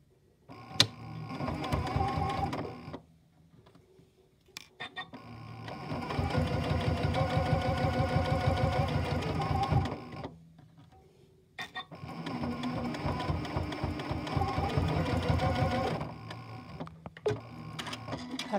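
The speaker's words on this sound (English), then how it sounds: "my goal is to sew further on the left-hand side" A sewing machine fitted with a zipper foot stitches piping in three close bursts of rapid mechanical whirring, each several seconds long and separated by short pauses with small clicks.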